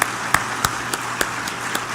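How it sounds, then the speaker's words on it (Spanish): A church congregation claps in a steady rhythm, about seven distinct sharp claps spaced evenly over a bright, continuous roomy background. "Dale un aplauso al Señor"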